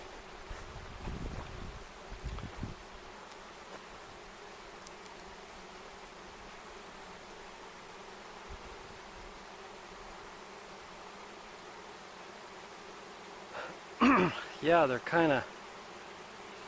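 A swarm of honey bees hums faintly and continuously outdoors, while brief rustles and soft handling noises break in and a person speaks a few words near the end.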